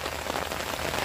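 Heavy rain pours steadily onto a farm field, a dense, close, unbroken hiss of countless drops with no talking.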